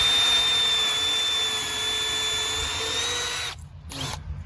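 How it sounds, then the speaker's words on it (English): A power drill drilling pilot holes in wood for a planter box whines at a steady high pitch for about three seconds, then stops briefly and gives a short second burst. "Go ahead and drill out my other side here."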